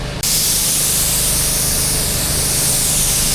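A spray gun spraying UV primer on a car lets out a steady, continuous hiss of mist that starts abruptly and holds without a break.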